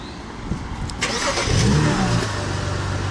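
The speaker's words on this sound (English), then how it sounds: "Start the car." A car engine cranks briefly and catches, then settles into a steady idle rumble, close and fairly loud, with no talk.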